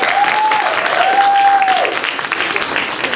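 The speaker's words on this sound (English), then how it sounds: "let's give him a round of applause" An audience claps after a live stage performance, sustained broadband applause with a faint tonal whistle over it, loud at first and easing slightly toward the end.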